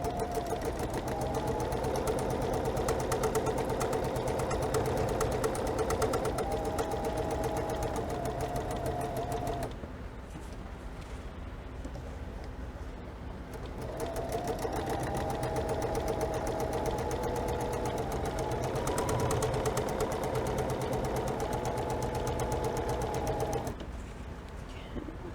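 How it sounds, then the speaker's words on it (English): A sewing machine stitches down one side of a line on a quilt block, running steadily in two long bursts with a short pause between them, close up and loud with no talking. "I flipped around now and I'm sewing down the other side of that line."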